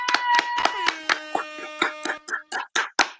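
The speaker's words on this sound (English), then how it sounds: "Let's clap it up." A small group claps rhythmically for a birthday, with a run of sharp, evenly spaced claps at close range, mixed with ringing tonal sounds.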